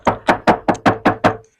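Knuckles rap seven times in a steady rhythm on the bare metal trunk panel of a Hyundai Stargazer, each knock loud, close and tinny with a quick ring-off, with no voices.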